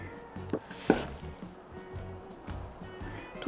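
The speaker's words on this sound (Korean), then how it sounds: "자 이렇게 또 도톰하게 썰어주세요" A knife cuts sweet potato into thick pieces on a board, giving a few soft, quiet chopping thuds spread over a few seconds in a hushed kitchen.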